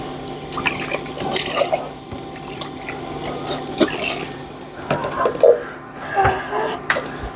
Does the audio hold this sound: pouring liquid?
yes